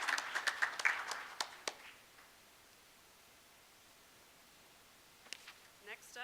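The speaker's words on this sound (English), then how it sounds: "have another round of applause for our education partners" A small audience at a school board meeting gives a brief round of scattered, fairly faint clapping that fades out within two seconds, then a few more isolated claps near the end.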